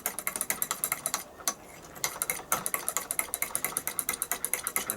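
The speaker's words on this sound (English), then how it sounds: "I'll add half and then I'll give it a stir." Rapid, regular clinking of a spoon stirring instant coffee in a cup, close up, with a brief pause partway through before the rhythm resumes.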